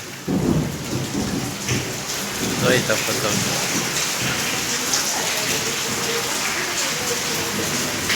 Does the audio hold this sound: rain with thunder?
yes